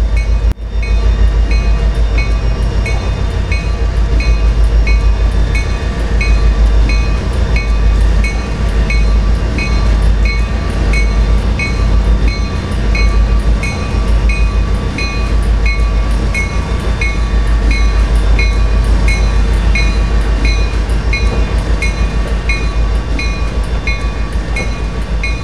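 Norfolk Southern freight locomotives rumble steadily back toward Gunnison Yard, a loud continuous low drone with tonal engine whine and rail clatter holding for the whole stretch, no voices.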